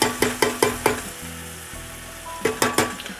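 Crushed tomatoes from a large can sizzle in a pan as a sauce for stuffed cabbage rolls, with a quick run of rhythmic scraping stirs, a calmer low bubbling stretch, then another burst of stirring close by, and no talking.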